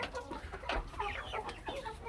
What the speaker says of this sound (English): And there's the rooster that I brought in.